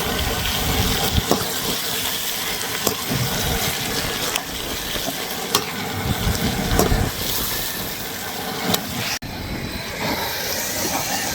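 Onions fry in a pan for chicken curry gravy cooked outdoors in strong wind, giving a continuous close hiss and sizzle with occasional sharp crackles for about eleven seconds, with no talking.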